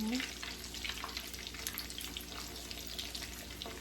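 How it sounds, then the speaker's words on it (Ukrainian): Chicken mince cutlets with cheese fry in a pan with a steady, close sizzle and crackle. The sound holds at an even level throughout, with no talk over it. "Вони дуже швиденько жаряться."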